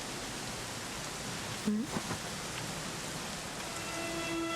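Steady rain hisses evenly throughout a scene in Dragon Quest XI S, a dense wash of falling water with a brief soft thump midway and faint tones creeping in at the end.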